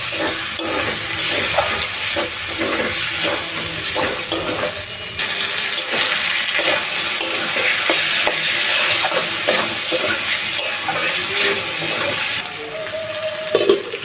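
Marinated chicken liver stir-fries in a hot pan for a Bengali kosha, a loud continuous sizzle with repeated scraping and stirring strokes throughout and no talking.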